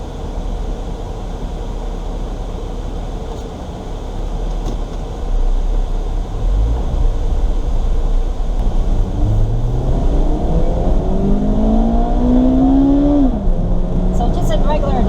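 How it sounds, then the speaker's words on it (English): Interior of a 2002 Toyota Celica GTS with automatic transmission: a steady engine drone builds, then rising and falling rev tones climb clearly near the end, loud and close, with light voices at times. "the engine still does rev up pretty high. Do get a lot of engine noise."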